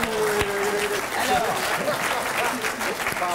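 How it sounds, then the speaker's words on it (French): Studio audience applause on a French television talk show, a steady, dense patter of clapping running throughout with voices talking over it. "Vous n'êtes pas obligé d'applaudir parce que c'est le chef"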